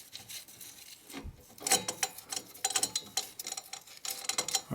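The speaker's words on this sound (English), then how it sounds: "So now I can remove this nut." A wrench works a sway bar link nut on a Ford Freestyle, giving quiet, rapid ratcheting clicks and scraping metallic rubs up close, fairly faint and continuous.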